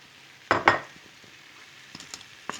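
Cubed meat with eggplant, onion and tomato frying in a pan: a soft, low sizzle carries throughout, marked by two loud close scrapes of stirring near the start and a few faint taps afterward, with no speech.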